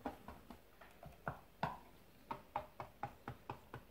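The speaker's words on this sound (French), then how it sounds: "je pique le fond de la pâte" A fork pricks the bottom and sides of pastry dough for a puff-pastry tuna terrine, giving a dozen or so short, close, crisp taps in an irregular rhythm.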